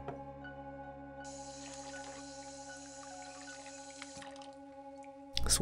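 A water tap runs in the video game Phantasmagoria, a faint steady hiss of flowing water with a few soft drips, over quiet ambient tones, ending in a short louder burst.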